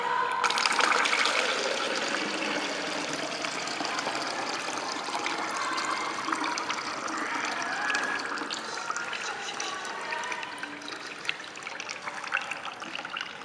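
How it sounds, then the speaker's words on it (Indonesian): Water rushes from an opened tap on pipe B in a lab setup, a steady close gushing and trickling flow that continues unbroken with no talk. "Setelah semuanya siap, kita buka keran pada pipa B."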